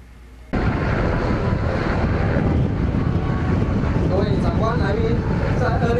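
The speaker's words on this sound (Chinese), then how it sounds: "空警队的直升机不断在爱济来回盘旋" A coast guard helicopter circles over a riverbank during a search-and-rescue disaster drill, heard as a loud, steady rotor and engine roar starting abruptly and holding throughout, with wind buffeting and voices talking underneath.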